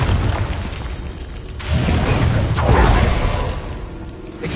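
Hogwarts Legacy combat as the Confringo fire spell bursts, a loud rumbling blast with whooshing debris that swells and rolls over several seconds amid continuous game noise.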